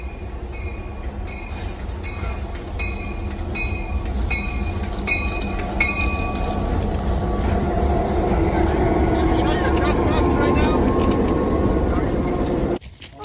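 A CSX freight train passing through Rochester, Massachusetts, loud and close, with a steady rumble of rolling wheels and repeated horn-like tonal blasts early on before cutting off abruptly near the end.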